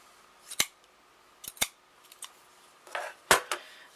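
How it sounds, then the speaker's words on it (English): Crisp scissor snips cut through crochet yarn in a few short, separate bursts. They sound close and clear over an otherwise quiet background. "I'm going to cut my yarn"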